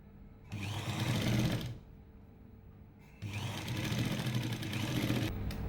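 A sewing machine stitches a churidar neckline in two steady whirring runs with a short quieter pause between, close and alone with no talk.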